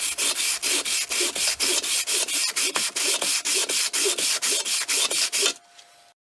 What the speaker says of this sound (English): you can use it as a face sanding block or a side sanding block